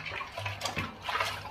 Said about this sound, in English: last of the water run out.